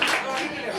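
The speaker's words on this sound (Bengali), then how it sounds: "ওর জন্য একটা জোরে সরে করতালি হবে।" A live audience claps for a song that has just been sung: a brief, dense patter of applause, fairly steady and moderately loud throughout.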